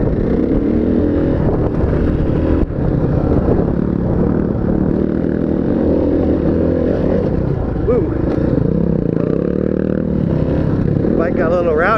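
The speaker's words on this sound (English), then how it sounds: "Bike got a little rowdy on that one" A motorcycle engine on a ride drones loudly and steadily with some wind buffeting, rising in a few revs toward the end, while a rider talks over it.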